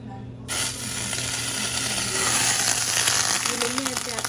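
Margarine sizzling in a hot frying pan while pasta with vegetables is being prepared, a steady loud crackling hiss that starts abruptly and continues, with faint clinks near the end.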